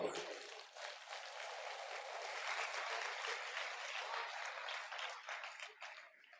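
Sustained applause from a crowd at an all-India kavi sammelan poetry gathering in Rath, steady dense clapping lasting several seconds before tapering off.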